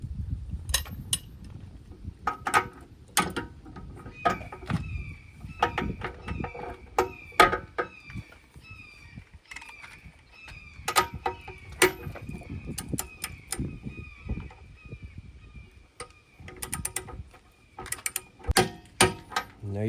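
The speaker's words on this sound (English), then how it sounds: "So I'll grab my torque wrench and we'll torque it to spec." A torque wrench set to 110 tightens nuts while installing a Reese Goose Box 20k gooseneck pin box, giving sharp ratchet clicks in irregular bursts with metallic clanks and pauses between strokes, close and fairly quiet.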